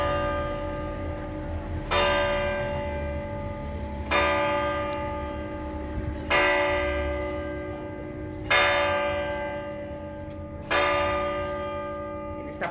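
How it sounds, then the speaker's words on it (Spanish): Church bells in the Torre de San Bartolomé tower ring over a town plaza beside the Renaissance parish church of San Bartolomé Apóstol, with five slow, evenly spaced strikes whose resonant tones hang on between hits. "Pedro, vamos a escuchar un segundo las campanas de la Torre de San Bartolomé ahí en la plaza"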